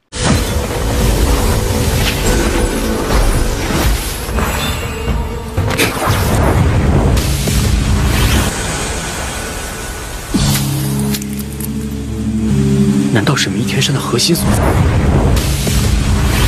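An animated donghua jade pearl bursts with power as a loud, sustained roaring boom and rumble that swells, dips briefly and surges again, with voices mixed into the dense blast.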